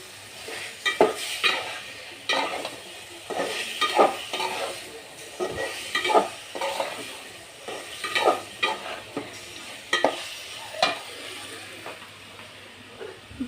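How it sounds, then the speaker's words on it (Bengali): Amaranth stems being sautéed in a pan, with close, repeated scraping and stirring strokes over a soft sizzle and occasional utensil clinks against the pan. "এখন ডাটাটা কষিয়ে নিব।"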